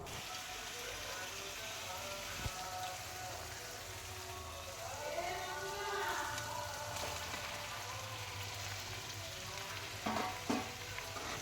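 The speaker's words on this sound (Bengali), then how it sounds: "এবার দিয়ে দেবো এঁচোড় আর আলু একসঙ্গে দিয়ে আবার বেশ খানিকটা কিন্তু আমি নাড়াচাড়া করে নেব" Jackfruit chunks and potatoes sizzling and frying in a spice masala in a pan, with steady crackle and intermittent stirring scrapes throughout.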